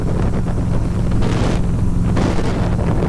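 A 2004 Road King motorcycle cruising without its big front fairing, its low engine rumble mostly buried under a loud, steady rush of wind.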